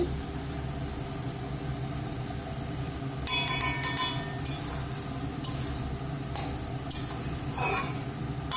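Peas frying in a pan on a gas stove, with a low, steady sizzle under a constant background hum and several bursts of scraping and clattering as a utensil stirs them.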